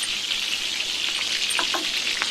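Onions and green chillies fry in hot oil for a goat head curry, giving a steady, close sizzle with a few sharper crackles and spits near the end. No one speaks.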